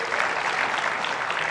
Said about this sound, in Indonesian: boleh tepuk tangan dulu buat Bapak dua ini